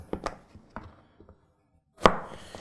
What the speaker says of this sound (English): I'm going to go ahead and cut them into half moons